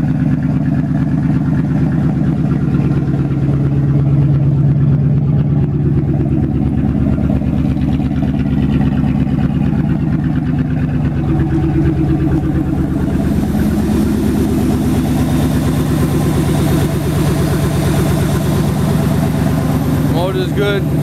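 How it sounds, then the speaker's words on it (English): A 2001 Dodge Ram 1500 pickup, its engine running in good condition, idles with a steady low rumble that holds evenly throughout, while someone talks over it. "This is a 2001 Dodge Ram"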